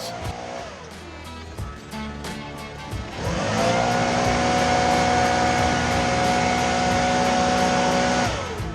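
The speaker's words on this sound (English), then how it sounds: "Here you can see just how much force the blower produces." A Stihl backpack leaf blower runs at idle, then throttles up to a loud, steady high-pitched roar and whine that holds close and alone for several seconds, fitted with a DIY gutter-cleaning leaf attachment.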